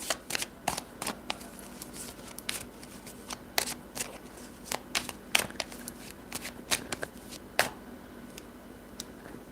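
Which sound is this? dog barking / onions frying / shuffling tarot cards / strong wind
shuffling tarot cards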